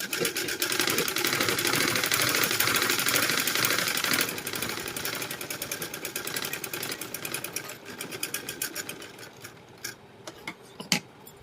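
A sewing machine runs fast and continuous while stitching a blouse lining with a half-inch fold, then slows into short bursts and single clicks of the needle before stopping, heard up close with no speech.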